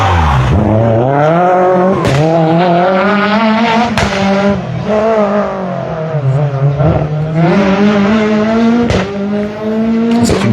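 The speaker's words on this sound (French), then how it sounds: "Thierry Mollet associé à Alan Pess sur la Renault Clio en F2014." A Renault Clio F2014 rally car on a special stage at a national rally in La Roche-sur-Foron revs hard and loud, its engine note climbing and dropping through several gear changes with sharp shifts throughout.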